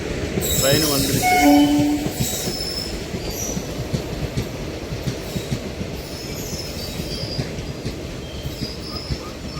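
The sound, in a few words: train arriving at station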